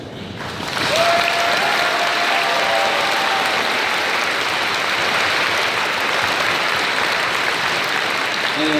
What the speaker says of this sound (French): Finir sur les applaudissements